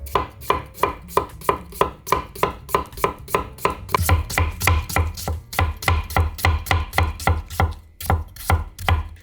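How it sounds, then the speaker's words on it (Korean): Potatoes being sliced into thin julienne strips with a knife on a cutting board, a fast, even run of sharp taps that speeds up and thickens midway, close and clear with no talking. "감자도 채를 썰 건데요. 감자는 채를 얇게 써는 게 좋아요."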